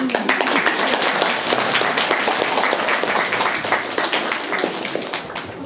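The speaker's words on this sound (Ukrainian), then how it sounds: "Виступають першачки, тож плескайте за людські." An audience claps for first graders about to perform at a St. Nicholas Day school show, a dense, steady wash of applause that holds for several seconds with no talk over it.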